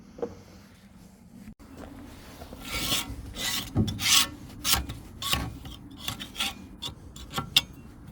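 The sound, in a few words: scraping debris off metal parts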